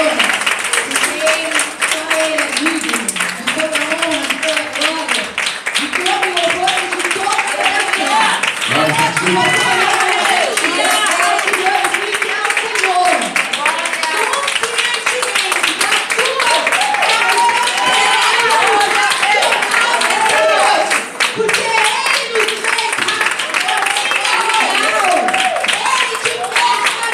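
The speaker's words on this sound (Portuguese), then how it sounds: "Vamos aplaudir ao Senhor" A church congregation at a prophetic family conference applauding in praise, sustained loud clapping blended with cheering voices and shouts throughout.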